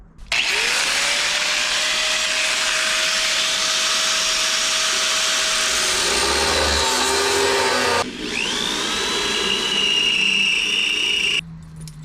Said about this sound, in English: I'll hit that with a mini grinder and cut the top off that completely